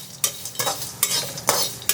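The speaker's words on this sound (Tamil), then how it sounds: "இது ரோஸ்டட் பீனட், அன்சால்டட் ரோஸ்டட், இதையும் வறுக்கிறேன்." Unsalted roasted peanuts are dry-roasted in a pan and stirred in four or five regular strokes, each one a rattling scrape of nuts against metal over a light sizzle.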